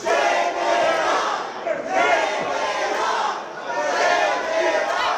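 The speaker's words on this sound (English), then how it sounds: "The crowd chanting, shave it off." Wrestling crowd at a live show chanting in unison, a loud rhythmic group chant that rises and falls in repeated waves, filling the arena.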